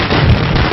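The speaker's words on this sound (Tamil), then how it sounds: "யார் அவன் மனுஷனை நிம்மதியா தூங்க விடாம வெடிய போட்டது?" A firecracker bursts loudly and close, a dense, crackling blast filling the whole moment with no talk over it.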